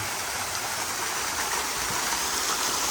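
Five fountains and a waterfall splash steadily at The Shape of Water restaurant, a dense and even broadband rush of falling water, close and constant, with no voices.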